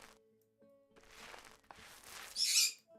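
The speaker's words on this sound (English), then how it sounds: "bird's going into psycho mode" A pet bird gives a loud, shrill call near the end, following some quieter chirps and background noise, with no voices heard.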